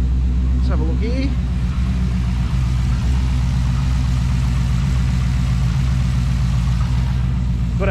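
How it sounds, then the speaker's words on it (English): A Holden Commodore VE SS Ute V8 with a performance cam idles close by with a deep, lumpy rumble and uneven pulses, and a voice speaks briefly over it. "we'll show you what it sounds like when it's idling a little bit differently"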